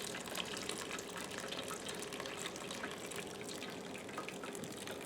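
Blackberry juice pours steadily and splashes through a cheesecloth-lined strainer, a continuous close wet rushing with no talking.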